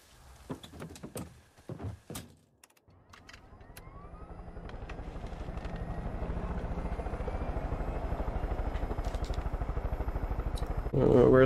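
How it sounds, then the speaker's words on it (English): A helicopter in the video game Far Cry 5, starting with a few thumps and clicks, then rotor noise spinning up into a steady, fast chopping whir that grows louder, with a voice talking over parts of it. "I'll just take this chopper."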